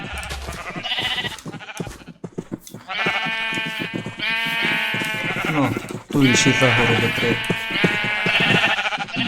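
Sheep bleat in Minecraft, several calls with stacked harmonics rising and falling, mixed with people talking in a Rusyn-speaking multiplayer server session throughout.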